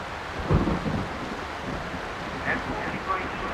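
A thunderstorm with rolling thunder and steady rain sweeps over an outdoor football pitch turned to mud, a low boom rumbling early on under a constant wash of rain and wind.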